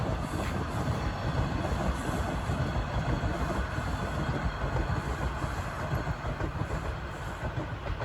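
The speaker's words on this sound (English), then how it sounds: "There's a subway train going by." Subway train rolling past outdoors in Toronto during a snowstorm, heading southbound toward downtown, a steady loud rumble with rail clatter and faint wheel squeal throughout.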